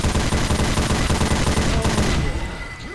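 Dense, rapid gunfire from several weapons at once in the zombie shooter Left 4 Dead, a loud continuous fusillade with rattling bursts that thins out near the end.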